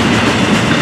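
FEC 105 freight train rolling past close by with stacked containers and piggyback trailers, a loud continuous rumble and wheel clatter of railcars going by, no talking.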